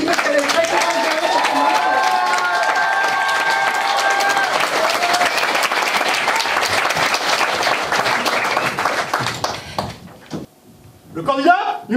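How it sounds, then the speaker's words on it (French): An audience applauds a candidate at a theatre class performance, steady dense clapping with crowd noise for most of the clip before fading, then a short burst near the end. "Allez-y, on l'applaudit parce qu'elle est très talentueuse"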